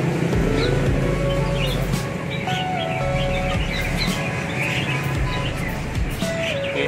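A small songbird gives repeated high, thin chirps and tweets against a busy outdoor background with traffic and a looping melodic jingle.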